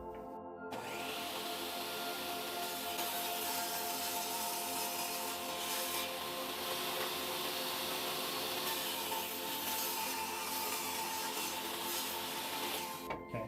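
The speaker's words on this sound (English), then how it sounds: "next we're going to cut this beech into strips the same thickness as the black walnut" Beech wood being sawn into strips on a power saw, a steady loud whining cut that runs continuously for the whole stretch after a brief start.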